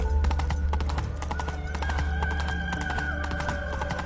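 Hooves of Roach, Geralt's horse in The Witcher video game, clip-clop in a quick, steady rhythm close by, each footfall a distinct knock over a low rumble of game ambience.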